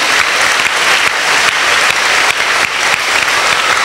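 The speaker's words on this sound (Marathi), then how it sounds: "जोरदार टाळ्या प्रभूचे आभार माना." Loud, sustained applause fills a church prayer meeting, a dense continuous clapping from a congregation lasting several seconds with no speech over it.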